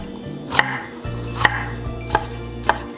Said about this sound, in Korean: 이렇게 파프리카 한 입 크기로 썰었고요